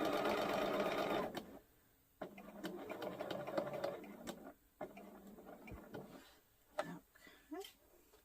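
A sewing machine stitches through a thick piece of fabric in close, clattering bursts broken by short pauses. A faint voice is heard in the background.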